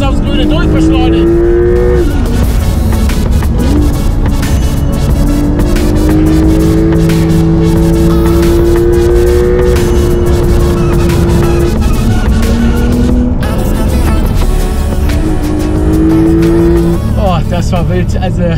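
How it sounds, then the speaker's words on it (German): Porsche accelerating hard around a race track, with a loud engine note that rises and shifts through gears continuously across the stretch, and a driver talking over the engine throughout. "ich sitze in einem Porsche, fahre hier über eine Rennstrecke"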